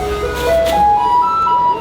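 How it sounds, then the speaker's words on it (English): A Changhua, Taiwan garbage truck plays its loud, bright jingle melody up close, the tune stepping through sustained notes like an ice cream van's music, with light street noise beneath. "Going to see the garbage truck."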